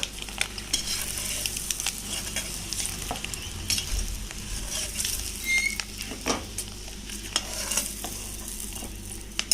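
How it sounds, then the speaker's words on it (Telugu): Eggs fry in oil in a pan for an egg masala curry, giving a steady close crackling sizzle with scattered pops and occasional scrapes as they are stirred, with no talk throughout. "ఆయిల్లో ఫ్రై చేస్తూ ఉండాలి."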